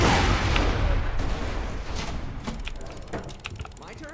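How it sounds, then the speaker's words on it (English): Grenades explode in the video game Borderlands 2 as a loud, rumbling blast that slowly fades, followed by scattered clicks and smaller mechanical pops. "I feel like he's throwing multiple grenades."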